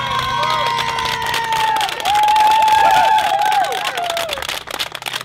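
Crowd at a Quebec City cycling ride event cheering and applauding the cyclists, a loud, dense mix of voices and clapping with whistles or shouts rising and falling throughout.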